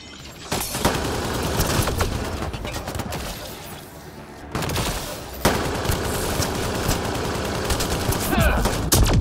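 Dense, sustained gunfire from a firefight in Mass Effect Andromeda against Kett forces, with overlapping rapid bursts and heavy booms that stay loud almost throughout and break off only briefly twice.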